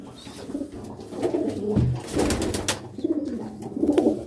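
A desi pigeon with pure black eyes, just caught in the wild, coos in short, low bursts close by, with soft rustling and handling noises between calls.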